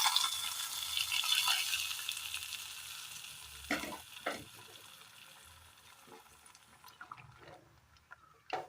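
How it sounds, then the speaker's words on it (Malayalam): Mustard seeds and dried red chillies sizzle and crackle in hot oil for a curry made with kanthari leaves. The frying is loud at first, then eases off into scattered pops and stirring clatter. "വറ്റൽമുളക്, കറിയിലേക്ക് കടുക് താളിച്ച് ചേർത്ത് കൊടുക്കാം."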